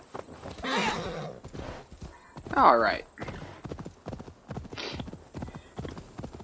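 Horse in Assassin's Creed Valhalla gives a loud, close whinny with clip-clop hoofbeats running under it, while someone talks over the top throughout.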